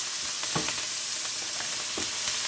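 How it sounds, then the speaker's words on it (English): Carrots, onion and green onion sautéing in a pot for a Jamaican hot pepper sauce, a continuous close sizzle broken by several soft thumps and scrapes of stirring, with no voices. "So everything is going to be added to the pot right now, and we're going to just saute everything."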